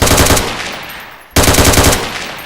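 Rapid automatic gunfire from a weapon in the Roblox video game, loud and continuous, breaking off briefly mid-burst before a second sustained volley resumes.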